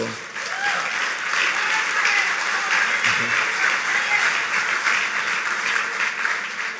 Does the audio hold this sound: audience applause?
yes